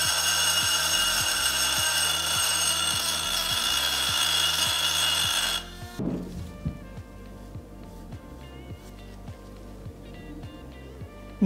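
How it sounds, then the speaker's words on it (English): Rotary tool grinding glaze off pottery, a steady high whine for several seconds that stops abruptly, followed by quieter scraping and tapping sounds. "Before you grind any glaze off of your pottery, make sure you have eye protection"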